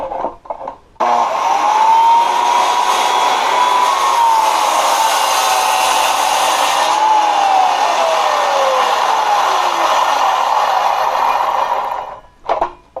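Circular saw with its guard lever pulled up cuts wood on a homemade cut-off sled, a loud steady whine that holds for about eleven seconds, rises and dips as the blade bites through the board, then winds down.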